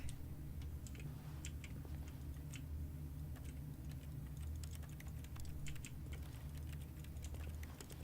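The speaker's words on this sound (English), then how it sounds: "it makes that keyboard noise" Quiet, rapid keyboard clicks from the video game The Stanley Parable tap in an irregular stream over a low, steady hum, with no voices.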